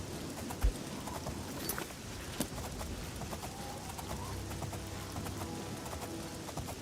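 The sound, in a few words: horse hooves clip-clopping while riding in the video game Oblivion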